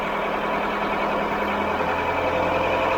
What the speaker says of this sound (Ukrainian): автомобіль трошки в мене газує, тому що я отут поклав на педаль газу